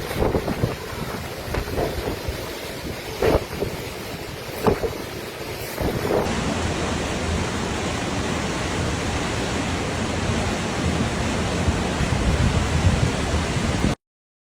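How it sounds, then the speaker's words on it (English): Heavy floodwater torrents rush down slopes in Réunion, roaring continuously, a dense broadband wash with some rumbling surges early on, steady and loud throughout. "torrents of water are coming down the slopes"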